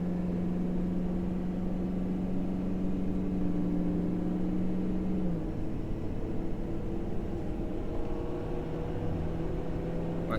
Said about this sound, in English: and I mean we're accelerating pretty decent here